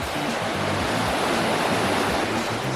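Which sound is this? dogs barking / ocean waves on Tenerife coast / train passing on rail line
ocean waves on Tenerife coast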